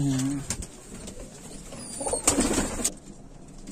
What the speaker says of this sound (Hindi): ये हमारे माशाल्लाह कबूतर हैं सारे।